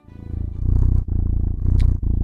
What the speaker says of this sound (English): All it is a website where you can listen to cats purr like